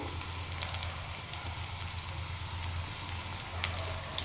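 Cumin seeds sizzle in hot oil for drumstick sambar, a steady close crackling hiss with scattered small pops throughout, under a low continuous hum.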